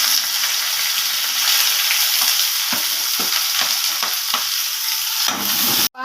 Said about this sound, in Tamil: வெங்காயமும் கருவேப்பிலையும் போடுறேன்.